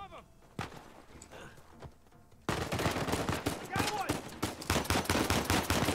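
Rapid automatic gunfire bursts out loud and sustained in the Uncharted 4 video game, following a quieter stretch with scattered shots and voices, with dense overlapping shots filling the second half.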